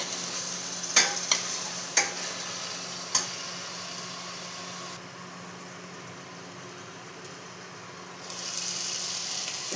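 Tomato and green chilli paste frying with masala in a pan, stirred with a few sharp spoon knocks early on over a steady soft sizzle that dips midway and then swells again.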